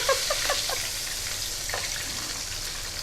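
Battered squid pieces sizzle in hot oil in a Malaysian kitchen, a steady frying hiss with small crackles and pops, fairly close and continuous.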